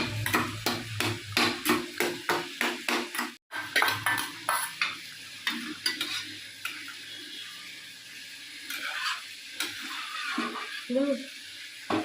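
A spoon stirs potatoes simmering in a pot of Bengali cauliflower curry, the kind made with boal fish, giving a quick run of rhythmic scraping strokes up close. The stirring then slows to a softer bubbling clatter, with a voice briefly heard.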